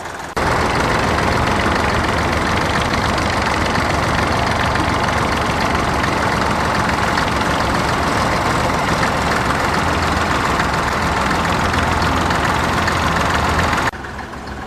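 Tandem Ford tractors coupled together and pulling an eight-furrow plough at a working vintage tractor show, their engines running as a loud, steady, dense diesel roar that holds unbroken close by for the whole stretch.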